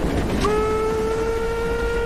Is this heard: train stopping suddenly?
yes